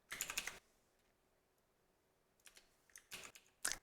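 Short bursts of typing on a computer keyboard, with quick clusters of key clicks separated by a quiet pause, heard close and alone.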